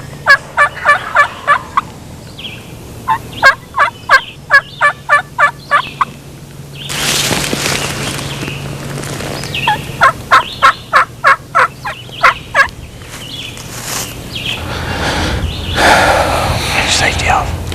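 A wild turkey gobbles in loud rapid bursts, several separate rattling volleys with quiet gaps between them, and soft voices come in during the pauses.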